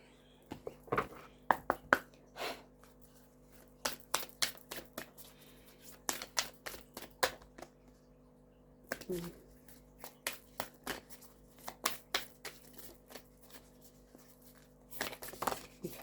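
Oracle deck being shuffled by hand, the cards not pre-shuffled: bursts of crisp papery riffling and slaps come in uneven clusters throughout, fairly close, with quiet gaps between and no talk over them.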